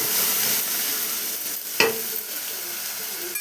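Ginger, garlic and coriander paste being stirred in a frying pan, a steady sizzling hiss with one sharp scrape of the spoon partway through, close and fairly loud with no talking.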